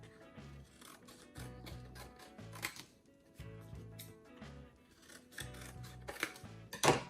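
Scissors trimming the edges of folded paper squares, close and quiet, a series of short snipping cuts in small clusters with soft paper rustling between them and no speech.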